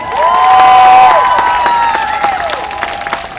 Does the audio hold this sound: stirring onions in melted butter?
no